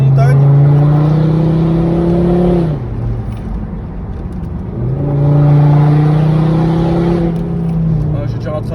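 A Volvo V50 R-Design turbo diesel with a stage 1+ tune and full Akrapovic exhaust accelerates hard on a mountain road, its engine droning up in pitch. It drops back briefly as the car lifts off, then pulls strongly again, loud and close throughout.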